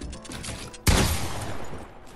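Gunfire in a 1v1 video game match: a sudden loud shot or burst of shots, with a rumbling tail fading behind it.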